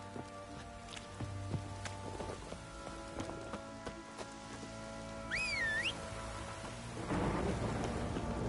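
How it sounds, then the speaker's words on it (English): Stormy weather in The Witcher game: steady rain hissing on surfaces with low rumbling thunder, scattered sharp cracks, a brief rising whistle-like tone midway and a heavier rush of rain near the end, fairly quiet overall. "A storm, damn it."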